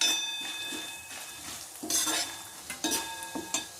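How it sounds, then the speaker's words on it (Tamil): Coriander seeds and a pinch of fenugreek frying in a pan, with a soft sizzle under sharp stirring scrapes and clinks of a spoon against metal, several louder bursts toward the end. "தனியா சேர்த்து நல்லா ஃப்ரை பண்ணலாம்"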